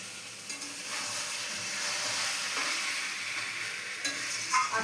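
Chicken being stir-fried hard in a hot kadai with no water added, a steady loud sizzle and hiss with scraping stir strokes throughout, no talking.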